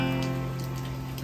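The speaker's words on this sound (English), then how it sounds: "we've just got some rain. It's actually coming down quite a bit." Rain from Hurricane Hilary falls steadily outside, a soft continuous patter of drops on surfaces under a low constant hum.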